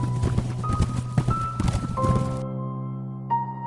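Hooves of a horse-drawn police carriage clip-clop in a quick, close rhythm for about two seconds over a sustained musical drone, then fall silent while the tones ring on.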